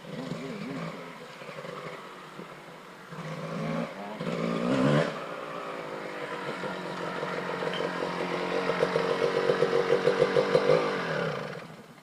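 A dirt bike engine revs and drones steadily while riding a wooded trail in Michigan's Upper Peninsula, rising into a harder, rattling rev burst around the middle and building again toward the end, close and continuous.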